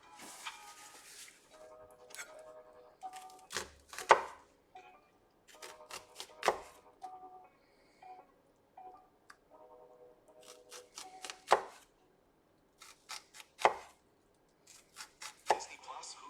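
A knife julienne-cuts vegetables for yakisoba on a cutting board, giving a run of quick, crisp chops in short bursts with sharper knocks now and then and brief pauses between bursts, heard close up.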